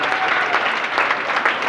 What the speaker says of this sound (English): You have to be giving him a big round of applause.